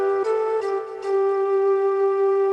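Piano playing a short melodic line from a song, a few struck notes in quick succession then one long sustained tone ringing out, close and clear with no talking.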